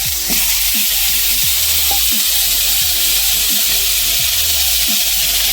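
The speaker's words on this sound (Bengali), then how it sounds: "হলুদ আলুটা ভালো করে ভেজে নিতে হবে" Loud, continuous hissing sizzle of potatoes with turmeric frying in a pan, with a regular rhythm of low knocks and scrapes as they are stirred.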